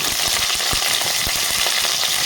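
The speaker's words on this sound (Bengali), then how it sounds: "হাই ফ্লেম করে তেলটাকে ভেজে নেবে তাহলে পিছলা ভাবটা হবে না" Okra frying in plenty of oil in a pan over a high flame, a steady dense sizzle with scattered crackles and pops running continuously at close range, no voices.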